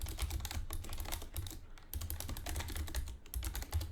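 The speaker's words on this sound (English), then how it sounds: "Let me type it for you." Fingers tap quickly and unevenly on a computer keyboard, a close, quiet clatter of keystrokes with a brief pause midway and no one speaking.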